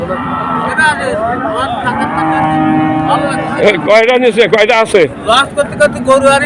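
Cattle low and moo repeatedly at Betagi cattle market, several loud nearby calls overlapping amid crowd chatter and passing vehicle noise, with someone talking throughout.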